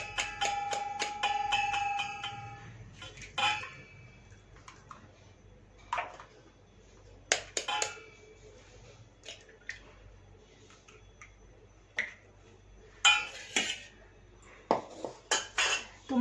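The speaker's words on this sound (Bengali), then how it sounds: "এবার একটা পাত্র নিয়ে নিলাম, এর মধ্যে 2টো ডিমটা ফাটিয়ে নেব।" Two eggs are cracked into a bowl while preparing a homemade cake, heard as scattered sharp taps and clinks of shell against the dish, close and fairly quiet, separated by brief pauses.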